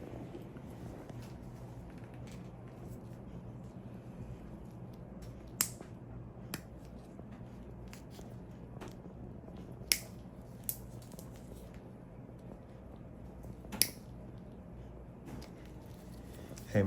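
Nail clippers trimming toenails during a pedicure at a foot spa: a few sharp, isolated clicks spaced several seconds apart over a quiet room hum, with faint talk in the background.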